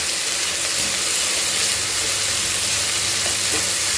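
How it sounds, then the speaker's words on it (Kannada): Boiled cauliflower, cooked with salt and turmeric, frying in a pan for gobi rice, giving a constant close hiss and sizzle with faint stirring underneath and no speech. "ಇದೊಂದು ನಿಮಿಷ ಫ್ರೈ ಆಗಬೇಕು."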